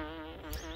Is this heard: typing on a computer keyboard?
no